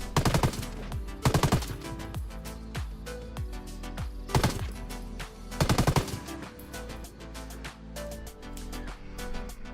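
Stoner A1 machine gun firing in Ghost Recon Wildlands, repeated loud bursts of rapid automatic gunfire with echoing tails, close and dominant, no talking.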